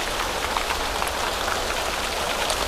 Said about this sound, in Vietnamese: Mưa to luôn.